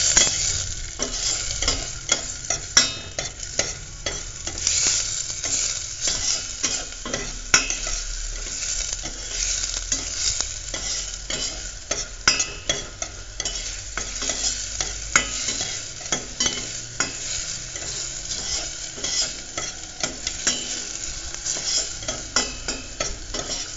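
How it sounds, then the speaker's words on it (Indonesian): Corn soup ingredients with small pieces get stirred steadily in a hot pan. The sound is a continuous close sizzle with a busy scrape and clatter of the utensil throughout, and no voices. "Nggak bisa ditinggal ini, jadi harus diaduk-aduk terus. Kalau ditinggal ntar gosong."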